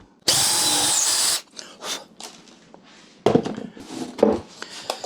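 A power drill driving screws during a homemade honey extractor build, with one loud, steady whirring burst up close, followed by quieter clunks of handling and then a short second round of tool noise and knocks.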